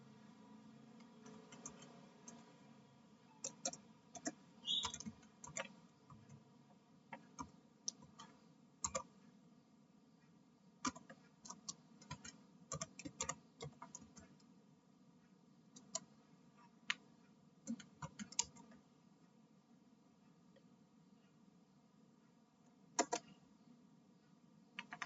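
Keyboard keys clicking in short irregular bursts as commands are typed on a computer configuring a Debian 8 server in VirtualBox, quiet and close with a faint steady hum underneath.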